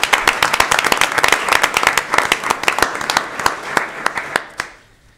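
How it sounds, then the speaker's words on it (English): An audience at a university board of trustees meeting claps in a round of applause, dense sharp hand claps close by that build briefly and then thin out and fade to a few final claps. "Let's give her a big round of applause."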